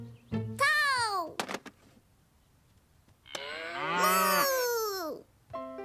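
A cartoon cow gives two long, loud moos, each a drawn-out bellow with a falling tail, separated by a short thump and a quiet gap; no other sounds compete.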